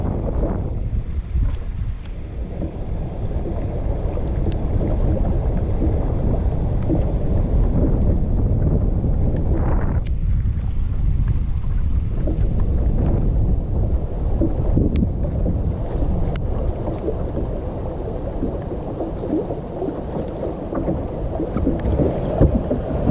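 Strong wind roars steadily into the microphone outdoors beside Cedar Lake in January, a continuous loud rumbling buffeting with brief gust swells.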